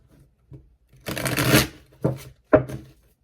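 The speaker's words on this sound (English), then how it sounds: "Can you see me shuffling these?" A Juliet Sharman-Burke tarot deck of thick, slick, slightly stiff cards being shuffled up close: one long riffling burst, then two short quick shuffles, with faint taps of the cards before them.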